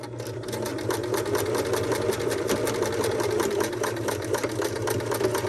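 A sewing machine stitches a lapped seam at a slow, even pace, its rapid mechanical whirr and repeating needle clatter running close and continuously without any voices.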